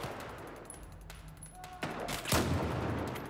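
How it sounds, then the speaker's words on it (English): Gunfire in the video game Battlefield 4 comes as scattered, fairly quiet shots and short bursts, with a louder cluster of reports near the end over faint game ambience. "See gunshots, but no enemies."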